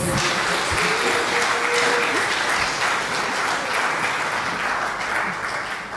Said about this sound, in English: May you kindly give them a big, big round of applause.